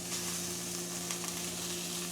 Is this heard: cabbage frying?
yes